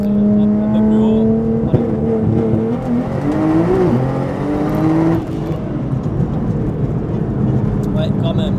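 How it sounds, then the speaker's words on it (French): A car revs hard through a rolling anti-lag run, its engine note climbing and falling in loud, close bursts for several seconds before settling to a rougher idle-like rumble near the end. "je vais vous faire un petit rolling anti-lag, un tout petit"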